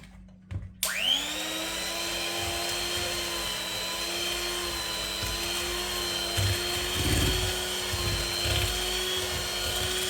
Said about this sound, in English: Then once I have those eggs in, I'll start mixing again.